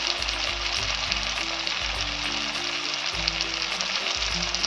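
Spice paste of turmeric, cumin, green chili paste and Kashmiri chili frying in hot oil, a loud steady sizzle with rhythmic low thumps and scrapes of stirring, close and without talk.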